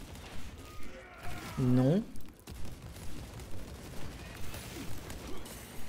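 Gunfire in Warhammer 40,000: Space Marine II, a steady run of evenly spaced shots at moderate loudness, partly masked by someone speaking and other battle noise.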